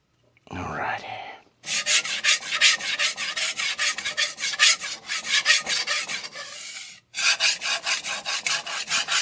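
Blade being sharpened on a DMD resin-bonded diamond plate, loud rhythmic rasping strokes back and forth in quick steady succession with a brief pause mid-way, close up and without talk.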